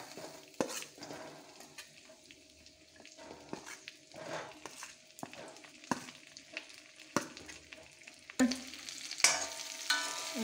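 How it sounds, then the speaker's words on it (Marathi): Okra frying in oil in a pan, a steady soft sizzle under repeated clinks and scrapes of a spoon stirring against the pan, with a louder sizzle near the end. "हितून 1 मोठो चमचो तेल घालता आणि आता हातून भेंडे घालता."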